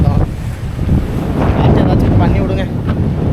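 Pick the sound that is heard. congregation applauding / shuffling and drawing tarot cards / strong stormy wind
strong stormy wind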